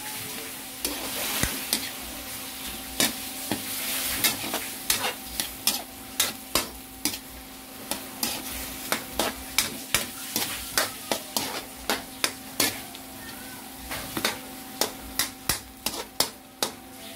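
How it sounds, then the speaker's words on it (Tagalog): Sotanghon noodles with chicken and soy sauce stir-fry in a pan, a steady sizzle under repeated sharp scraping and tapping strokes of a utensil, close and fairly loud, keeping a regular rhythm throughout. "maglagay tayo ng toyo"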